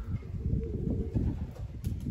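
Young homing pigeons cooing low and soft, a steady murmuring burble running continuously close by with a few faint chirps above it.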